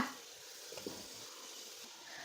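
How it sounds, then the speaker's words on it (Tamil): Chopped tomatoes go into a hot, sizzling masala for a vanjaram fish biryani, giving a soft, steady frying hiss with a faint splash as they land, heard close and alone without talk. "கட் பண்ண தக்காளியை உள்ளே சேர்த்துக்கோங்க"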